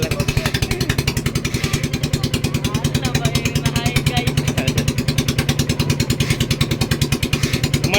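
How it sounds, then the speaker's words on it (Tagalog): An engine runs with a rapid, even thumping rhythm, close and loud, holding a steady idle throughout. "mandar na po yung makina"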